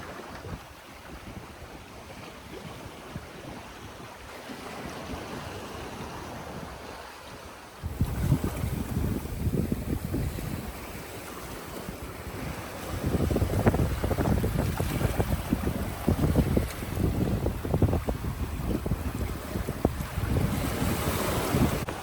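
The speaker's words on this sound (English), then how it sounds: "Wind just picked up." Strong wind rushing over a 28-foot sailboat at sea, a steady roar of gusts and microphone buffeting with waves washing by, swelling louder partway through and staying loud.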